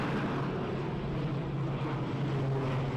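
A Ryanair airliner at Edinburgh Airport produces a steady, broad engine roar at moderate distance, unbroken and fairly even, with a low hum underneath and no talking.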